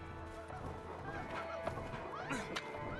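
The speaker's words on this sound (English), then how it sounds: "I thought it was like geese." Geese honking in the video game A Way Out, a steady chorus of nasal honks and squawks layered over continuous background game ambience, moderately loud and close.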